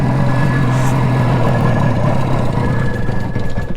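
A 1977 Suzuki GT250 two-stroke motorcycle being ridden, its engine a loud, close, steady drone with a constant buzzing tone and wind rush over the whole stretch, easing slightly toward the end.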